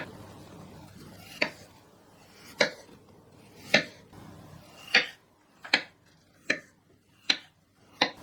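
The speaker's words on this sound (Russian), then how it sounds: "Я буду делать по старинке, то есть вручную нарезать мои кружочки" Potatoes sliced by hand with a knife into thin 2–3 mm rounds for a French gratin dauphinois; eight crisp, evenly spaced chops ring out close by over a quiet kitchen background with no talk.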